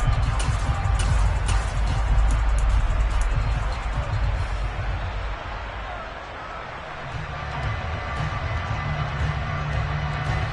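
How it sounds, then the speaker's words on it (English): A steady stadium crowd roar from a Madden 23 football game hums throughout, dipping briefly mid-stretch before swelling again, with a dense murmuring babble of fans under the game audio. "Crowd getting in it a bit already."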